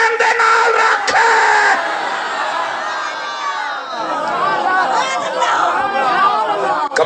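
A large crowd at a religious sermon on Karbala shouts a slogan in unison, loud overlapping voices rising together in a sustained collective cry, then surging again after a brief dip.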